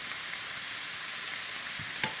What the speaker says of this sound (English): These are beef fillet tips. So I've got a nice hot pan down here.